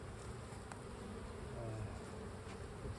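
Honey bees swarm and buzz steadily around an open hive during an inspection, a dense, continuous drone close by with no talk over it.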